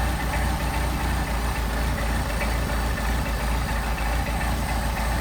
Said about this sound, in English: right now we're running 800 on the idle, which is just about right